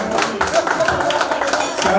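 Guests at an anniversary celebration clap energetically in a brief, dense burst of many hands, with voices mixed in among the applause.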